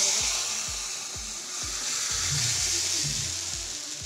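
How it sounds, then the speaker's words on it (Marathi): Tempering spluttering in hot oil for coconut chutney, a steady hiss of sizzling with small pops, close and continuous throughout, no talking. "आता इथे मी खोबऱ्याची चटणी फोडणी घालत आहे"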